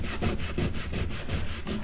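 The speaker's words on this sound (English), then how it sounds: "Sandpaper will take it." Sandpaper scrubs back and forth over damaged wood on antique Biedermeier furniture, about eight quick, even rasping strokes close to the mic with no voices.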